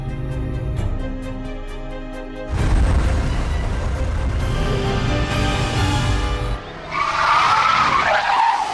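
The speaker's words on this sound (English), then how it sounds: "the car skidded right, then flicked left, tipping onto 2 wheels." A car without electronic stability control skids at over 70 mph, tires howling in a loud sustained squeal over engine roar, swelling midway and easing briefly before a final harsher scrub.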